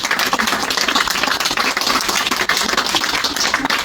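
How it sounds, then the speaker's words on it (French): An audience applauds a reading performance by Patrick and two actors, loud, close, continuous clapping from many hands with no voices breaking through. "on peut vraiment applaudir Patrick et les deux comédiens."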